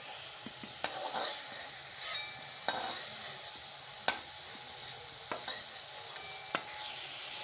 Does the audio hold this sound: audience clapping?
no